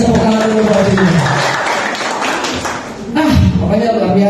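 A congregation applauds a man named Vino during a Sunday church service at GBI Pulogebang, a loud wash of clapping that swells in the middle under a speaker's ongoing voice.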